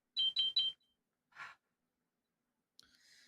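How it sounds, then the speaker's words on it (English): A phone blood-sugar app gives three quick high-pitched beeps in a row, followed by a soft breath and a later faint tone, all quiet with no speech. "You're beeping again."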